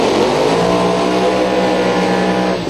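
Twin-turbo 622 cubic inch big block drag race cars roar together at a raceway, a loud sustained engine drone with no voices.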